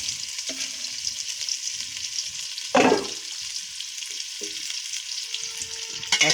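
Ginger paste, cumin paste and dried chillies fry in oil with a steady sizzle, broken by a few scraping stirs and a sharp burst of hissing near the middle, close up with no voices.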